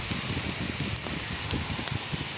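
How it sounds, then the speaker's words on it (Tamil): Rain pours steadily during a cyclone in Chennai, a dense, hissing patter that stays even and fairly loud throughout, with no talk. "ஐயோ, மழை ஸ்டார்ட் ஆகிடுச்சு"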